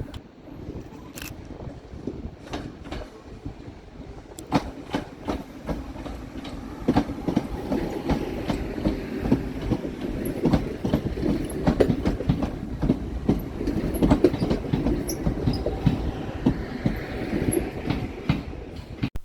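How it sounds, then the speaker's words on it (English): A Northern Class 323 electric train pulls into Manchester Piccadilly from Crewe, wheels clicking over rail joints amid a low rumble that grows louder as it nears, with sharp metallic clanks and squeals scattered through. "Arriving next to terminate with a Northern service off of Crewe is"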